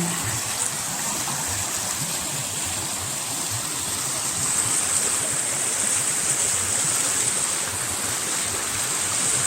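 Clear stream water flowing steadily along a hiking trail near Charlotte, a continuous close rushing and babbling without pauses or voices.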